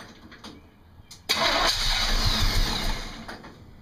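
A V8 car engine cranks briefly and catches, then settles into a steady, loud, slightly uneven low idle in a workshop.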